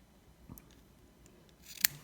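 Small scissors snip cotton wick on a vape rebuildable dripping atomizer, a faint close click early and a sharper crisp cut near the end, otherwise quiet.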